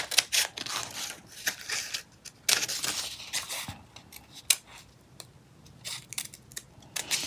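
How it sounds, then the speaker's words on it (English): Scissors snip through fabric while a holiday dress is cut out, a run of crisp, close blade strokes in an irregular rhythm with brief pauses, no voices. "So you go ahead and cut this on your fabric."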